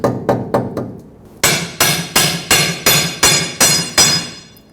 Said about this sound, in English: I'm pulling back as I'm hammering